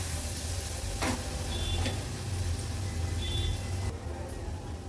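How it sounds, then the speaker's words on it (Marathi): Turmeric and homemade Agri Koli masala fry in hot oil in a pan, giving a steady, loud, close sizzle throughout, with a few faint clinks and stirring scrapes on top. "हळद आणि मसाला तेलावर छान परतून घ्यायचा आहे आपल्याला।"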